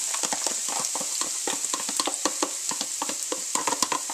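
Red onion and garlic frying together in a pan, a steady bright sizzle with irregular stirring clicks and scrapes throughout, close and moderately loud with no talking.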